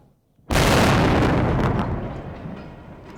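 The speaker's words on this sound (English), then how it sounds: "The only way in to blow a hole in the wall." An explosive charge blows a hole through a building wall during the 2003 Iraq war, a sudden loud close blast that rolls into a long roaring rumble and slowly fades as debris settles.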